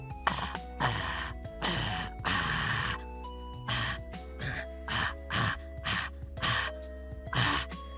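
A voice makes a series of short, raspy, constricted breathy bursts using the false vocal cords, rough gasping sounds repeated in an uneven rhythm close to the microphone.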